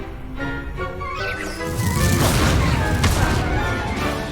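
Hogwarts Legacy spellcasting with Incendio and Levioso: a dense, loud stream of magical bursts, whooshes and crashing impacts, swelling into a heavy rumbling barrage midway and continuing without a break.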